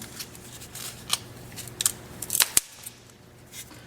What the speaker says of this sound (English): I'll just take a pair of scissors and I will just snip